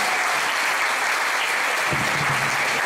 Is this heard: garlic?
no